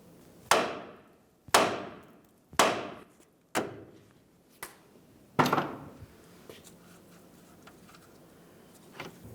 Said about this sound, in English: Now we'll continue on with a hammer. We're going to give the knuckle a couple loving bonks